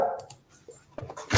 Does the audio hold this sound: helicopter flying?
no